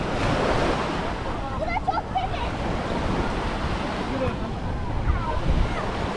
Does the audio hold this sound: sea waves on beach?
yes